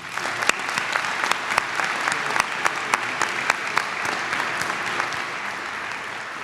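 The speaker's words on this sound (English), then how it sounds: "Please join me in giving these outstanding students a big round of applause." Applause from a large audience at a 2018 college commencement ceremony, a steady roar of clapping with a few sharp individual claps standing out throughout.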